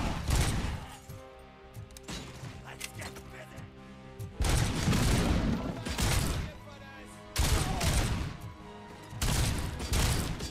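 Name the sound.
gunfire in the video game RoboCop: Rogue City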